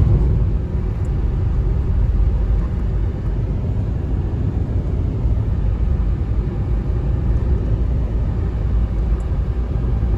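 A car climbs a mountain road near Kemer, Antalya, Turkey, heard as a steady, loud engine and road rumble from inside the vehicle that continues without a break.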